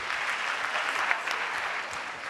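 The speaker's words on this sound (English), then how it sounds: "a round of applause for Cadrix there" Steady, dense applause from an audience at a senior high school renewable energy challenge, cheering student Cadrix; the clapping holds at an even, loud level throughout with no pauses.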